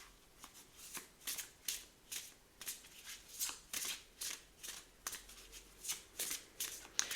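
Oracle cards being shuffled and laid out, a steady run of crisp riffling snaps and slides at a close, even rhythm with no talk.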